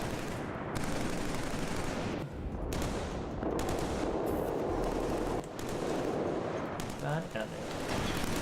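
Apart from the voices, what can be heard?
gunfire from shooting enemies in the video game Killzone 3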